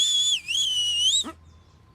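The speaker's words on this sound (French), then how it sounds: "Mais tu sais que tu siffles hyper bien." A person whistles a single sustained, high tone that dips briefly and then rises again, heard loud and clear with no talking, before it stops abruptly.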